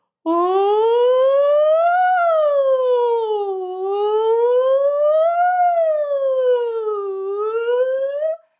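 A low, steady tenor or baritone voice imitates an ambulance siren, gliding slowly up and down in pitch through several wailing cycles without pause.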